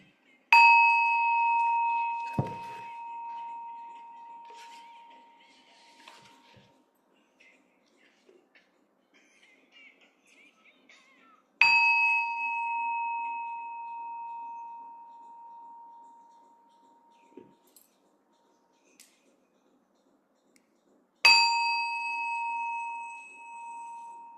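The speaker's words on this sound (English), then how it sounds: "Here's the chime, 3 chimes, and then you could begin." Three meditation chimes ring out one at a time, about ten seconds apart, each a clear bright tone that lingers and fades slowly into near silence before the next strike.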